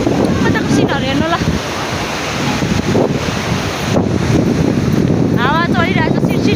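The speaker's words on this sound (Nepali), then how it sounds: "हावा चलिरहेको छ सिर एकदम हावा" Strong wind buffets the microphone outdoors on a rural walk home near a river and landslide-scarred hills, a loud, continuous roar with gusts throughout and no clear speech.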